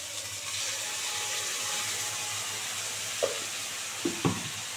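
Ground spice paste from a mixer going into fish heads and cabbage frying in a pan: a continuous sizzle with a few brief spoon and pan knocks toward the end, no speech.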